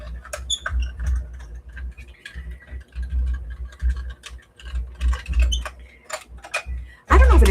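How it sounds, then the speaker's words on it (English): A small die-cutting machine presses a die and sheet through its rollers during a steampunk album journal project, giving a near, uneven run of creaks, clicks and ratcheting over a low rumble, ending in a louder thump. "Run it through the little machine."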